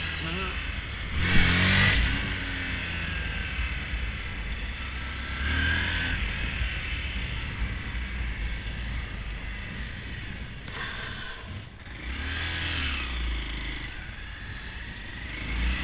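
A Honda Grom motorcycle engine revs hard and drops back while small wheelies are attempted, producing loud, steady engine drone with rising surges, close by, over wind noise.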